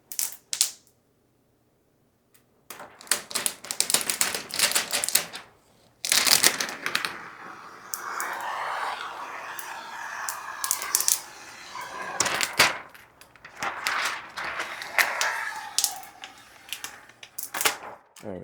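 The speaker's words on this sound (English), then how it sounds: "here is some ASMR of unpacking the television" A TCL T7 QLED television is unpacked from its box, a close, busy stream of cardboard scraping, plastic rustling and foam crinkling in irregular bursts separated by brief pauses.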